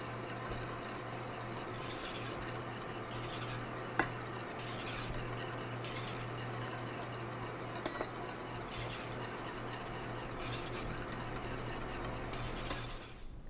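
Eclair choux dough mixture is stirred in a pot on a noisy stovetop, giving soft, rhythmic scraping strokes repeated about every one and a half seconds over a constant low hum.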